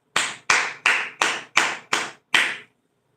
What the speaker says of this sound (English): 7 Hebrew claps for you, my Hebrew sister